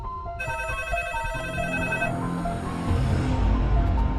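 A phone ringing with a bright, steady electronic tone that cuts off partway, leaving a low background hum.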